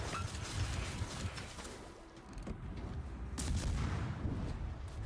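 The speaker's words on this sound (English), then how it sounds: "I'm shooting the Auckland because I intend to go and ram the Yugumo" Warship guns firing at the Auckland in World of Warships, a steady dense rumble of low booms and battle noise running throughout, with no clear voice.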